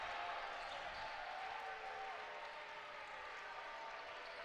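A basketball arena crowd at a women's college game between Michigan and Minnesota cheers and claps in a broad, steady roar, fairly faint and distant, fading slightly toward the end.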